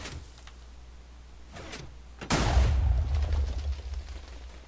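A Minecraft TNT arrow cannon fires: faint clicks are followed by one loud, sudden blast that leaves a low, rumbling tail lasting a couple of seconds.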